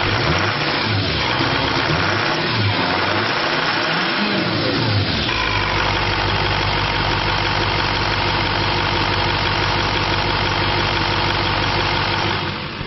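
A 2005 Chevrolet Silverado 2500 with a 6.6 liter turbo diesel and automatic transmission runs nearby, with a short revving throttle burst early on, then settles into a steady, loud, rumbling diesel idle with no talking.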